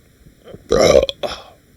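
A single loud, drawn-out belch from a man, rising sharply and then trailing off with a shorter second gurgle, close to the microphone with no talk over it.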